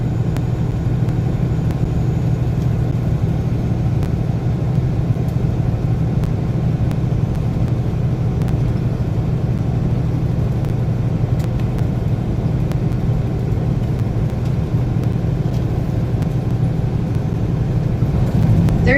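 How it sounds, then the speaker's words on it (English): Continuous road traffic on a highway between Winslow, Arizona and Victorville, California: a loud, steady low rumble of tires and engines from vehicles coming up from behind, with no talking. "Pretty fair amount of traffic coming from behind now."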